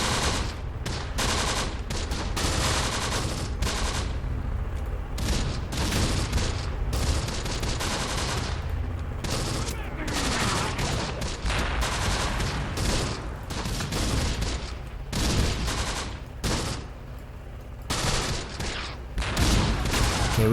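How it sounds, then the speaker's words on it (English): Mortar blasts and rapid gunfire in the World War II strategy game Close Combat: The Bloody First, a dense, continuous battle din of overlapping shots and bursts for about twenty seconds with no talking. "The mortar team doing a little bit of damage here."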